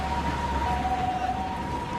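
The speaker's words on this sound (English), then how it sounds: "That is an ambulance." An ambulance siren from the Steins;Gate visual novel holds a steady two-tone wail that shifts in pitch partway through, sounding constant and fairly loud over a low background rumble, with no voices.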